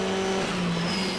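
Endurance race cars at the Red Bull Ring sweep past on track, a brief loud engine drone with a rising whine, heard alone without commentary.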